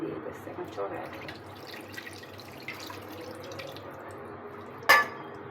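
Water added to a pot of cooking beef, a low splashing pour with a few drips, ending in a short sharp clink, while a voice talks softly nearby.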